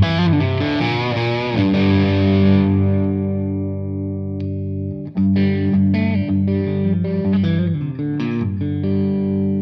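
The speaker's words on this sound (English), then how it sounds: "We're going to roll the volume on our guitar down, and you'll be surprised at how convincing this clean sound is." Electric guitar through the British gain channel of a V4 Kraken amp with guitar volume rolled down, strummed chords ringing out then lighter picked notes, loud and alone.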